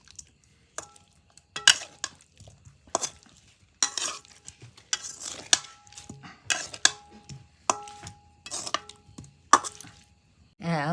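Potatoes in a pot are stirred with lemon juice for a garlic potato dish, giving a series of close, sharp scraping strokes in an irregular rhythm with quiet gaps between them.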